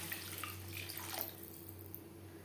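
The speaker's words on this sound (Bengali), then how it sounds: "এই পর্যায়ে দিয়ে দেব জল।" Water is poured into a cooked-down spice masala in a pan for a katla fish belly curry, making a soft, faint, steady splash over a low background hum, with no voices.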